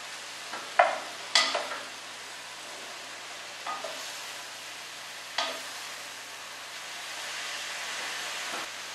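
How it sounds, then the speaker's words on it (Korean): Meat and mushrooms being stir-fried in a pan with scallion oil, a soft steady sizzle broken by several sharp scraping stirs and clatters of a utensil, close and fairly quiet, without talk. "고기가 익으면은 준비해둔 버섯을 넣고 조금 더 볶아줍니다."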